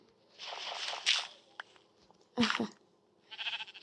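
Two bursts of video game sheep bleating, a wavering cry and then a shorter one, with a soft thud and a footstep between them.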